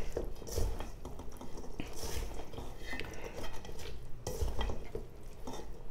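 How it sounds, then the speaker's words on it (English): A spoon stirs potato salad in a bowl, giving repeated scraping and clinking strokes up close, with a couple of louder knocks against the bowl's side and no talking. "I'm going to mix this in, give it a really good mix."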